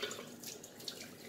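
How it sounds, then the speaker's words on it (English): Tap water runs steadily into a sink during face washing, a soft, even hiss with faint splashing, quiet and close, with no voices. "so I'll go wash out my face"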